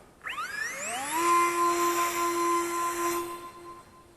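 A small brushed motor on an Eachine Flying Fish W650 sub-250g micro plane spools up at launch to half throttle. It rises in a quick whining sweep, then holds a steady, loud high-pitched drone that eases off slightly near the end.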